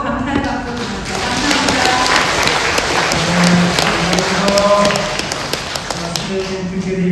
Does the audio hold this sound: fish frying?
no